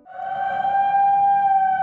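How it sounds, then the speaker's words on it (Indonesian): A loud, steady warning siren for Mount Merapi volcano danger wails continuously, a sustained tonal blare with no talking. "sirine tanda bahaya Merapi berbunyi"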